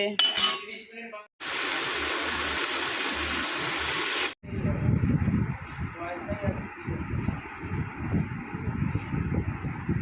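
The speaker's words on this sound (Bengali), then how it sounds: "সবজি কাটছি" Vegetables cut by hand in a home kitchen, with a burst of loud broadband noise early on followed by a run of close, uneven knife chops and clatter over a low background.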